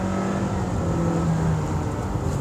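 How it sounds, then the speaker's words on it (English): A 2024 Honda CR-V engine revs hard at full throttle, a steady, loud strained whine and drone held throughout with no talking. "So foot down, now the car goes, and it's screaming."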